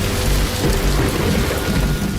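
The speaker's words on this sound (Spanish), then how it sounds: "la humedad cae en forma de lluvia torrencial." Torrential rain pours down over hills near Thebes as thunder rumbles, a loud, close downpour with deep rolling booms beneath the hiss of water.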